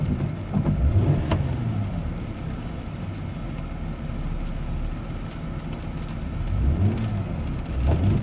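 A Mercedes car with an M272 engine at full throttle from inside the cabin, a steady droning engine rise with a low rumble and whir, swelling at the start and again near the end.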